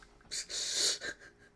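A single person's yawn, a breathy drawn-out exhale that swells and fades over about a second, close to the microphone with no talk.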